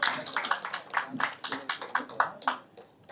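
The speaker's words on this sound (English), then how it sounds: "Let's welcome him with a big round of applause" Applause breaks out as an alumni guest of a physics alumni summit steps onto the dais, a steady run of claps rising and falling in loud waves close by, with a hint of voices beneath.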